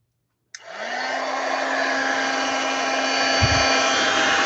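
Heat tool switching on with a click and a rising whir, then blowing as a steady loud roar for melting embossing powder during card making, with a brief low bump partway through.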